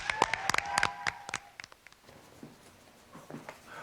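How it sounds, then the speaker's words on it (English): At a championship round of a team competition, an audience claps in a short scattered burst that thins out after about a second and a half, leaving faint room noise. "Give them both a huge round of applause"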